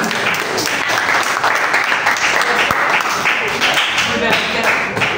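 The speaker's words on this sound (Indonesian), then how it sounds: "tepuk tangan untuk kelompok 6" Classroom applause for a student group during an academic supervision session, steady loud clapping filling the whole stretch with some voices mixed in.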